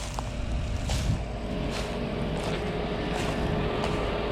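Continuous low engine rumble of a Fendt 724 Vario tractor pulling a 4 m Mandam disc harrow deep in a field, steady and fairly close, with wind noise over it and no speech.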